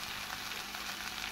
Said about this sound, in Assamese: ধুনীয়াকৈ মাংস ফ্ৰাই হৈ গৈছে